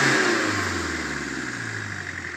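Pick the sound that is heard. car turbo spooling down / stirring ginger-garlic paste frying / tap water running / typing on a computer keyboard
car turbo spooling down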